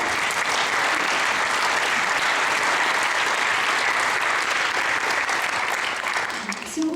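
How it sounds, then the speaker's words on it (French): Enthusiastic, unbroken applause fills a regional government hall during a 2019 prize ceremony, loud and dense for about seven seconds before tapering slightly. "Loana, tu voulais applaudir, et je pense que tu as raison, on va applaudir effectivement"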